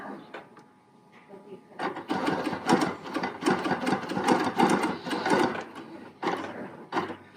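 A BERNINA Q Series sit-down quilting machine stitches a parallel line along a ruler, giving a loud, fast mechanical hum with rapid needle ticks that runs for several seconds and then stops, close by, with a voice speaking over it.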